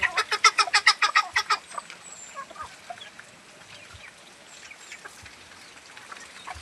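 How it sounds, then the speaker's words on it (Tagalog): A rapid run of about ten loud, rhythmic quacks opens, then fades into softer scattered calls and rustling from a nearby flock. "Mga pato."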